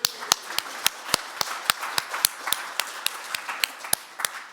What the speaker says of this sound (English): So that's a round of applause for yourselves.